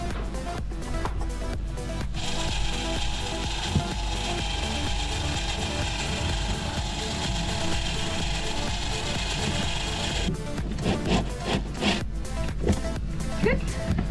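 Screwdriver turning a screw into a wooden window frame for a sailboat, giving a steady run of ratcheting clicks and grinding that stops and starts near the end, with a person talking intermittently in the background.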